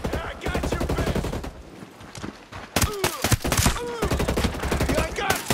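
Gunfire in the Ghost Recon Breakpoint video game during a USMC training course, dense repeated shots with sharp sporadic cracks layered over busy game sounds.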